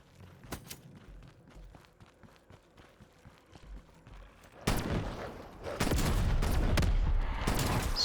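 In Black Ops Cold War Zombies, quiet footsteps and a few faint shots give way to loud, close shotgun blasts and heavy gunfire that build in the second half.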